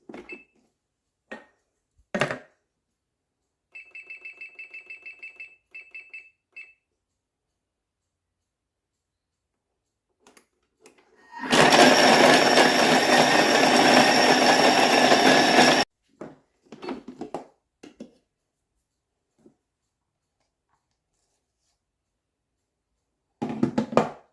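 A kitchen mixer runs steadily for about four seconds, blending homemade Nutella, with scattered clicks and clatters before and after.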